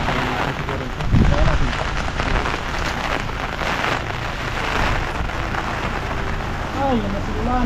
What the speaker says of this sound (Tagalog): Ay, grabe po siya ulan na to.